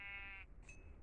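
A sheep in the Minecraft video game gives a single short, faint bleat, followed by a brief soft game chime.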